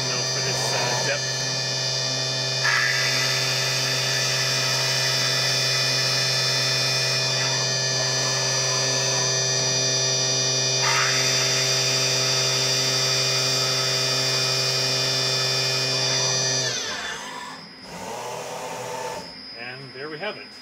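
Tree Journeyman 325 CNC milling machine drilling deep into wood, a loud steady whine with a low hum running for about sixteen seconds, then stopping, followed by quieter machine clatter and someone talking.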